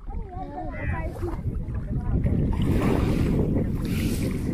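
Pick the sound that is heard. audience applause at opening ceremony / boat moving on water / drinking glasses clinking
boat moving on water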